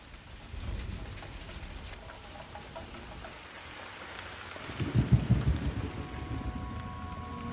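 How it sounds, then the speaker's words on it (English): Heavy rain pours steadily throughout a storm, and a deep rolling rumble of thunder swells loudly near the end before fading back into the downpour. "There was a storm."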